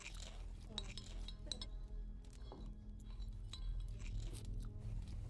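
Crisp crunching and light clinks as a crispy cheese tuile is cut with cutlery on a plate in a professional cooking competition kitchen, brief snaps over steady background hum and chatter.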